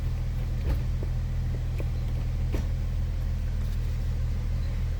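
A Nissan 370Z, suffering low power and a long crank, idles and rumbles softly while reversing, a low steady engine hum at low volume with a few faint clicks and taps over it.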